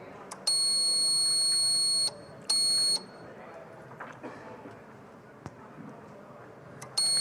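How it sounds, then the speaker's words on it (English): A quiz contest buzzer rings in loud, sustained electronic tones when pressed, two long bursts early and a third cut off at the end, with murmuring room noise and faint voices between. "So the one who presses the buzzer first, the light will glow in that."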